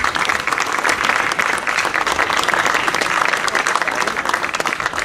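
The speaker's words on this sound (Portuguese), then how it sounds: "Uma salva de palmas para ele." Dense audience applause for a singer at a Sanjoaninas 2023 cantoria on Terceira island, sustained and even for the full few seconds, with no voices over it.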